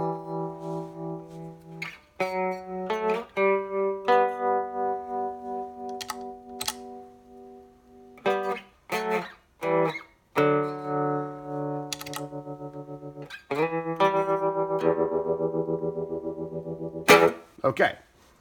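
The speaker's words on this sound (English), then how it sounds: "So that's what a trem does." An electric guitar runs through a tremolo effect pedal, playing loud sustained notes and chords whose volume pulses rhythmically, with short pauses between phrases.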